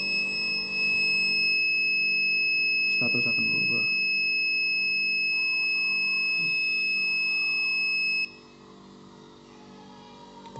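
Steady high-pitched electronic buzzer tone from a NodeMCU ESP8266 IR flame sensor alarm, sounding continuously for about eight seconds and then cutting off, with someone talking over it.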